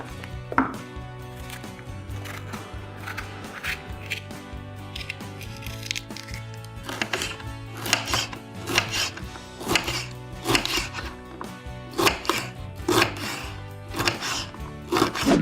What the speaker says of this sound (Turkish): Yeşil biberi de doğrayalım.